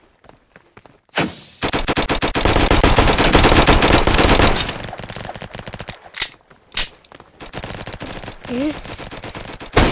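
Rapid automatic gunfire in the Roblox game Flag Wars, a long loud burst of closely spaced shots followed by scattered single shots and brief bursts, with a few words of speech near the start.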